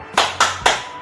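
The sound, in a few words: class doing rhythmic spirit clap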